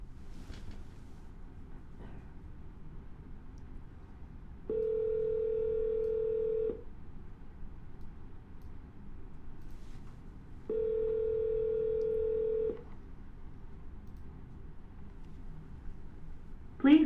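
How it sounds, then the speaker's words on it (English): A phone call rings out on the line after dialing, giving two evenly spaced ringback tones about two seconds each against a quiet, hissy line, followed by a click. "There we go, we're dialing."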